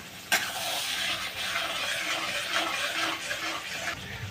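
Half a kilo of onions fries in oil in a pan with a steady, close sizzle, broken by stirring scrapes and a sharp clatter near the start; no one speaks.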